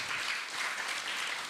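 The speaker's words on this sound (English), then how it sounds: "Let's give him a big round of applause," Steady applause from a temple audience at an ISKCON gathering in Dallas, a dense wash of many hands clapping together, moderately loud and continuous throughout, with no voices over it.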